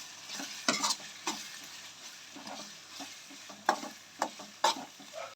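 Prawn biryani mixture of onion, tomato and spiced prawns cooks in a pan, a soft continuous sizzle broken by several sharp scraping stirs of a utensil against the metal, close and without talk.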